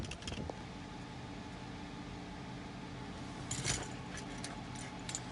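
A 2019 Chrysler 300S V8 cold start: a steady, close engine rumble holds throughout, with a brief louder surge just past the midpoint.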